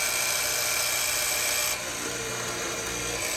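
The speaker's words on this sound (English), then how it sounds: "So first I'm cutting my mortises out and then we'll worry about getting that flat shoulder line later." A woodworking mortising machine cuts mortises in wood for a traditional settee, giving a continuous, loud, high-pitched mechanical whine and grinding that drops slightly in level partway through.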